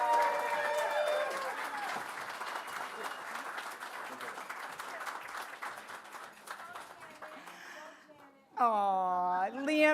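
An audience at a clinic spring fundraiser applauds for Janet Riley, a dense burst of clapping that gradually thins out, followed by a voice speaking near the end.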